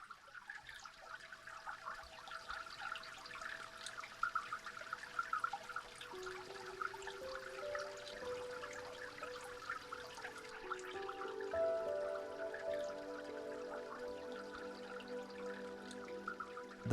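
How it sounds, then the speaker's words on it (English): Water trickles and splashes steadily through a pondless waterfall fountain built from milk crates, a continuous turbulent flow close by with no voices over it. "The pond doesn't really include those features because the falls are quite turbulent."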